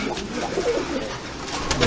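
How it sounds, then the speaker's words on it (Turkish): Japanese pigeons cooing in a coop, soft low repeated coos close by over a steady background hum, with a few brief higher chirps. "Japon güvercinleri de var."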